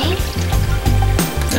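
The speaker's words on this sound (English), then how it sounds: "what we're gonna do is gonna pour ice water into the cup" Ice water poured into a cup, a loud, steady splashing fill running close by with brief breaks and no talk over it.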